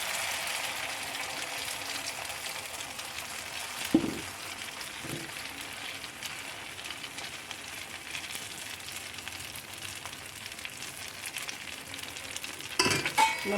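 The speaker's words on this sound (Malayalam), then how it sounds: "അപ്പോൾ നമുക്ക് നമ്മുടെ മാവ് കോരി ഒഴിക്കാം." Bun dosa batter frying in coconut oil in a pan gives a steady, soft sizzle throughout, with a couple of brief louder clatters near the start and end.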